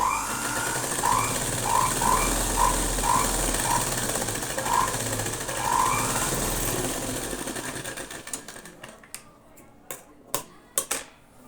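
A sewing machine runs steadily in a long continuous whir while stitching along a blouse waistband, then stops and leaves a few sharp clicks and taps.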